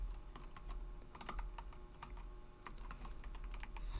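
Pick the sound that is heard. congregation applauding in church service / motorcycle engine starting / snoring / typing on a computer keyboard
typing on a computer keyboard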